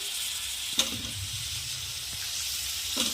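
Potatoes and cabbage drop into hot masala for a cabbage and potato gravy, giving a steady, close sizzle with a soft thud and a stirring scrape, no voices.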